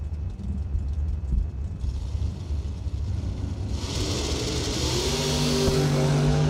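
Chevrolet Camaro drag race car launching at a Christmas bracket race, a sustained engine roar that swells and rises in pitch toward the end, with no talk over it.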